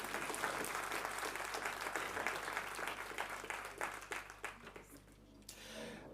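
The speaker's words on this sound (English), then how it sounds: "let's give Lele a big round of applause" Audience applauding at a book launch, a dense sustained wave of clapping that fills nearly the whole stretch and thins out near the end, with a faint murmur of voices underneath.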